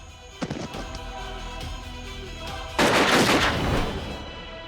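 A sharp shot cracks early, followed later by a loud burst of rapid gunfire that rings out and fades, with no voices.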